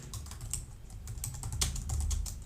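A computer keyboard is typed on in a quick, uneven burst of close, crisp key clicks, heard alone.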